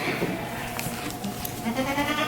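A Kiko goat doe bleats on a farm among other goats, a wavering bleat heard close and fairly loud against a busy background of animal noise.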